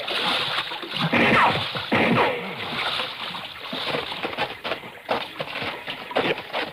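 Splashing water as someone wades through it while carrying another person out, with broadband bursts of sloshing and splatter close by, a steady rushing wash behind and no voices.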